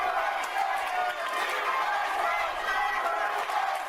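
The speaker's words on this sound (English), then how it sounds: "How can you not get emotional listening to this crowd?" A wrestling crowd at a WBW event in Toledo, Ohio chants and roars. The dense, steady wall of voices carries on unbroken and loud for the whole stretch.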